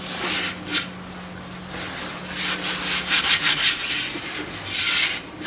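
Sandpaper rubs against a large wooden salad bowl spinning on a lathe, a steady hiss that swells and fades in waves over the low hum of the running machine.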